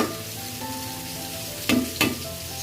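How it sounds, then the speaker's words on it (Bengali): Snakehead fish fries in a pan with a steady close sizzle and crackle, broken by two brief louder bursts of spattering oil or stirring. "আর মাছ ভাজা করা হচ্ছে"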